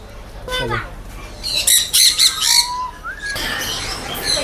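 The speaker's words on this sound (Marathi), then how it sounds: "इकडे वेगवेगळ्या प्रकारचे पोपट आहेत" Several parrots squawk and screech in sharp bursts close by at a Mumbai pet market, with voices murmuring in the background.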